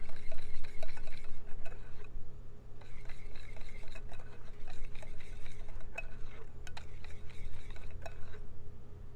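Pumpkin pancake mix with a splash of milk is stirred in a bowl, in rhythmic bursts of scraping and light clinking that pause briefly between rounds over a low hum.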